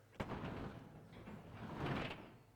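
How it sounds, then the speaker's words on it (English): A garage door moved by hand rolls along its track with a soft rumbling slide, a sharp knock at the start and another swell of movement near the end. "the door can be operated by hand"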